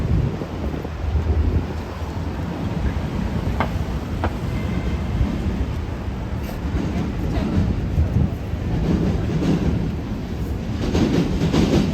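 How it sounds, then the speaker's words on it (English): A New York City subway train rumbles underground beneath a Midtown Manhattan street near Baruch College, a steady low roar with faint clickety-clack lasting throughout, mixed with wind buffeting the microphone and street ambience. "Hear the subway going under us."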